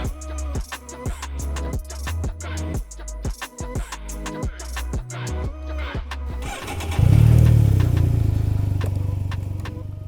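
A 2021 Can-Am Ryker Rally Edition engine cranks with a series of sharp mechanical clicks and bursts, then catches and holds a loud, steady running drone close by.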